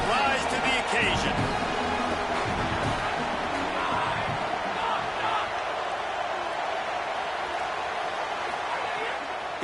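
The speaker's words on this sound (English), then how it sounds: "Crowd trying to help this defense rise to the occasion" Stadium crowd noise in a college football video game, Michigan against LSU, rises as fans try to lift the defense: a loud, continuous roar with thumping impacts near the start, steady under the action.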